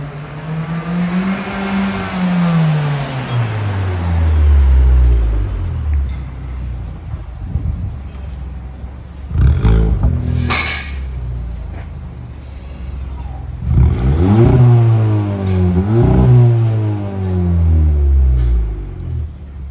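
A Seat Leon 1.5 engine revving through a modified exhaust system, deep rising and falling revs with a booming tone, a sharp burst in the middle, then a second run of repeated revs, loud and close with no talk.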